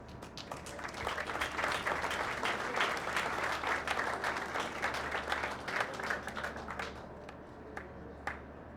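Sustained audience applause at a veterans benefit cruise, a dense patter of many hands clapping steadily for several seconds, then thinning out toward the end with a few scattered late claps.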